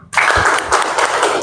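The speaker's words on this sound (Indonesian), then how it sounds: "Tepuk tangan untuk kita semua." A class of pupils claps hands together in a burst of dense, loud applause that starts abruptly and continues steadily for over a second.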